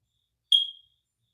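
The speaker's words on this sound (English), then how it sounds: "Hopefully the crickets and the smoke detector allow me to be great." A smoke detector gives one short, high electronic chirp, sharp at onset and fading within a fraction of a second, alone in an otherwise silent room.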